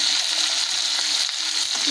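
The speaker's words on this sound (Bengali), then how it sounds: "মাংসগুলোকে একটু হালকা করে ভেজে ভেজে নিয়েছি" Chicken pieces for biryani fry in a pan, a steady bright hiss of sizzling oil, close and fairly loud, with no voice over it.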